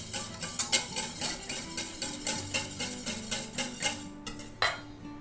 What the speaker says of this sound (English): I'm going to use a whisk. Helps get everything all nice and blended.